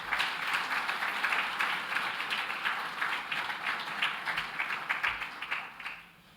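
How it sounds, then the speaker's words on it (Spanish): Sustained applause from an audience at a Bolivian constitutional book presentation, a dense, steady patter of many hands that tapers off at the very end. "a usted un gran aplauso"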